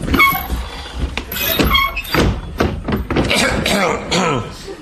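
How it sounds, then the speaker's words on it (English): A door creaks and squeaks as it swings open, with bangs and rattles, mixed with voices talking close by. "That door, you need a bit of WD-40 on that."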